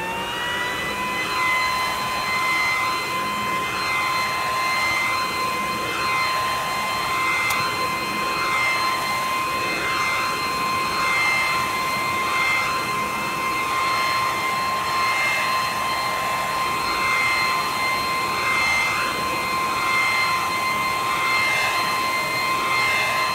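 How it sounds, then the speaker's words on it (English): Several Worx leaf blowers, around 350 CFM and including a WG509 TriVac with a dual-stage metal impeller, run at full speed in a loud, steady, high-pitched whine with a rushing-air roar that holds unbroken throughout, with no talking. "And I'm going to do it full speed."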